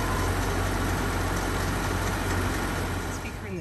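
A 2018 Jeep Grand Cherokee 4x4 with a 3.6-liter V6 and automatic transmission idles steadily, a close, even engine drone with a broad rushing hiss that stays constant and eases slightly at the very end.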